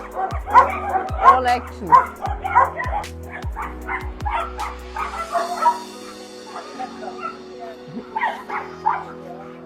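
Dogs at an animal shelter in Tavira bark, yip and whimper in a busy chorus of repeated close barks that fade toward the end, while people talk over them.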